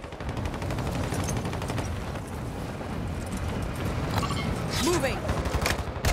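Rapid gunfire and explosions from a Call of Duty-style multiplayer match crackle steadily and up close, with a brief spoken word over the bursts.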